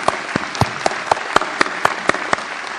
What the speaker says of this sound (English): let's show our love with a round of applause for all the behind-the-scenes team